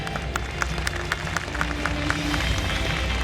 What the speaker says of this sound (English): Let's give them a huge cheer.